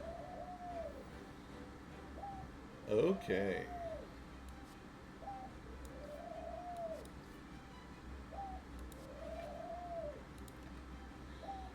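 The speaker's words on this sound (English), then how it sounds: "If you hear cooing in the background, that's my birds." Pet pigeons or doves coo softly in the background of a room, several low rounded calls repeating at intervals under a single spoken word and a brief louder knock.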